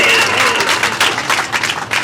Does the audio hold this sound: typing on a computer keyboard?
no